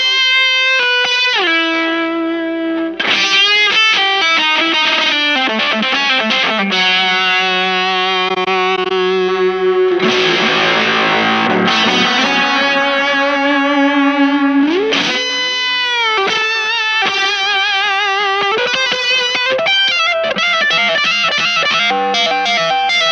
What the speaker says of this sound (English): It is set on the tube delay.